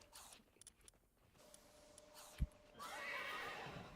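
A horse in the Palworld video game lets out a short whinny after a few soft clicks and a brief thump, the neigh rising clear and fairly loud toward the end.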